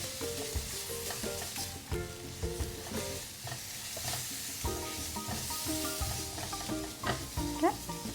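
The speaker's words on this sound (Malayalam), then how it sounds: "അപ്പോഴേക്കും നമ്മൾ എടുത്ത് വെച്ചിരിക്കുന്ന തക്കാളി ചേർത്ത് കൊടുക്കാം. എന്നിട്ട് അതൊന്ന് മിക്സ് ചെയ്യാം." Tomatoes stirred into a soya chunk roast frying in a pan, a steady sizzle with repeated scraping and stirring strokes and a few clinks, close and continuous throughout.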